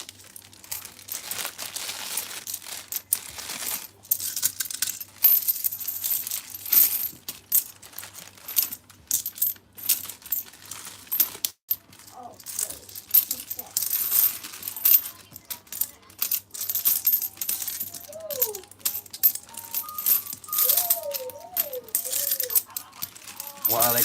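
Coins from an opened piggy bank being counted by hand, a busy stream of clinks and rattles with crinkling, while people talk and hum throughout.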